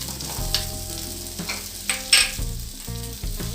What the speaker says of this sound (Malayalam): ഇത് നമുക്കൊന്ന് വഴറ്റിയെടുക്കണേ.